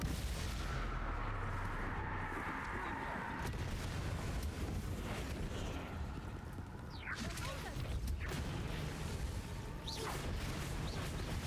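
Confringo fire spells explode during a duel in the video game Hogwarts Legacy, a fairly faint series of booming blasts and rumbling impacts over a dense, continuous game soundscape.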